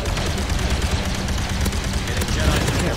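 Dense, rapid blaster and gunfire bursts from Star Wars Battlefront II played in VR fill the scene, loud and continuous with layered explosions and chaotic battle noise throughout.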